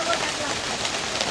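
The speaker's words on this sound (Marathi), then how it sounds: "पावसाची परत सुरुवात झाली आहे" Rain resumes over a Konkan village, a dense steady patter of drops hitting surfaces with a faint voice beneath it.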